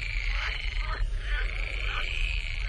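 Frogs croak continuously in a dense chorus outdoors at night, loud, steady trilling calls with rhythmic swells and no talking.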